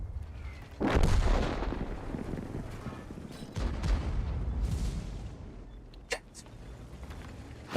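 A Jagdpanzer E 100 tank destroyer's cannon fires in World of Tanks, heavy booming shots with long rumbling decay, one near the start and another midway, followed by fainter sharp impacts.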